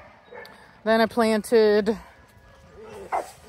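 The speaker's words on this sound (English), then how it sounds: "Don't bark at me just because I got a bandana on." A dog outdoors in a garden gives a short burst of three or four close, loud barks with a whiny edge, and a person talks briefly before and after.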